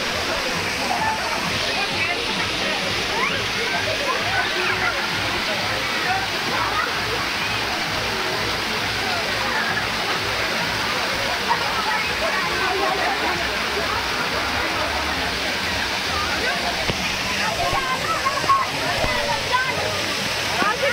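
Water pours steadily from a waterfall at an amusement park, a continuous loud splashing rush that fills the whole clip, with voices talking underneath.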